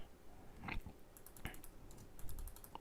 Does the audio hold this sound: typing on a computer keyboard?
yes